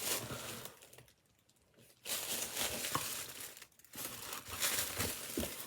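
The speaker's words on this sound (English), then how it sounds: "it's always wrapped in a beautiful tissue paper" Crinkly tissue paper rustles and crumples close by as fabric from a sewing subscription box is unwrapped, in loud bursts separated by short quiet gaps.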